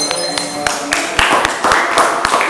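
Group in a teaching-practice session clapping in a room, a loose run of sharp claps over a humming background, with some talk mixed in.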